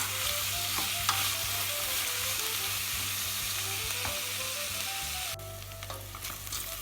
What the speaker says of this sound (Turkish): Şöyle sebzelerimizle birlikte çevirelim.